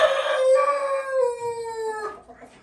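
A Wyandotte breeding rooster lets out a single loud, close crow that holds steady and then trails off, with no other sounds around it.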